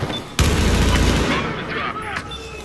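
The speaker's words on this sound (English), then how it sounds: "Stop shooting me in the back." Battlefield 4 gunfire in a bomb-mode match: a sharp loud shot burst opens into sustained rattling fusillade, dense and close, with a voice talking over the battle.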